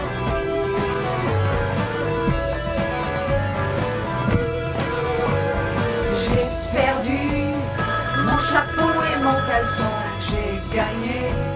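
A telephone rings with a loud, melodic electronic ringtone that plays steadily through the whole stretch, with repeating tones and no talk over it.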